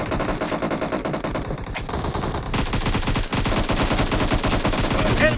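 Automatic gunfire from a PUBG Mobile battle, loud and continuous with rapid bursts of shots layered over one another throughout, dense and close.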